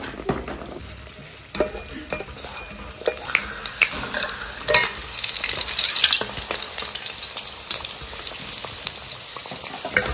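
Food fries in a kadai (wok), giving a bright, close sizzle with scraping stirs and clinks of a utensil, and water-like splashing throughout.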